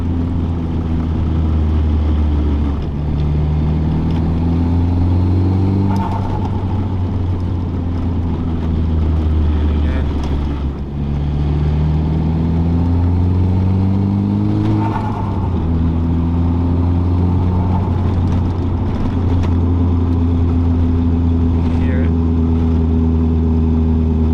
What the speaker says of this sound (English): Third gear decel right now.